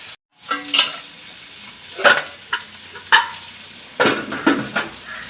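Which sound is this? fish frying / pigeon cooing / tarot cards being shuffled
fish frying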